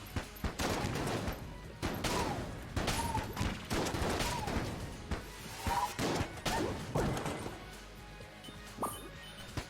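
Rapid gunfire in the Enter the Gungeon video game, dense bursts of shots and impacts with whooshing effects, loud and continuous with short gaps, no talking.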